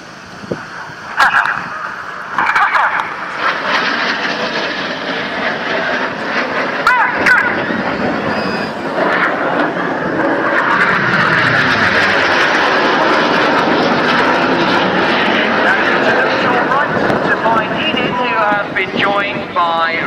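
Red Arrows jets descend low for an opposition barrel roll at an air show in Portrush, a loud, roaring engine rush with wind buffeting that builds and holds, under a commentator's voice.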